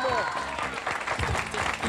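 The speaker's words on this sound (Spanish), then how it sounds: "a pedir a un aplauso, por favor" Audience applause breaks out at the close of a Spanish-language comedy sketch, loud clapping running under overlapping voices, with a person talking over the noise throughout the short stretch.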